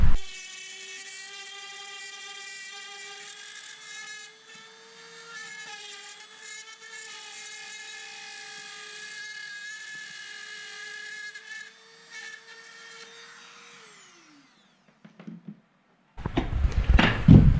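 A power tool whines steadily while cutting an outlet hole in drywall in a mobile home, holding one high pitch for about fourteen seconds before winding down, followed by brief clattering.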